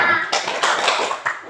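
A school class performs the tepuk semangat clapping chant, a quick burst of loud group claps in a short rhythmic pattern from many hands close by, with children's voices mixed in.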